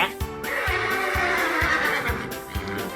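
A horse in The Sims 3 video game neighs in a shrill, wavering whinny, loud and close, over a looping rhythmic game music bed of evenly spaced low thumps.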